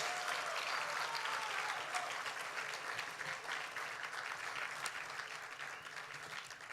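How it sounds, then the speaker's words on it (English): Steady applause from a crowd at an award ceremony, sustained clapping throughout with no talking over it. "round of applause."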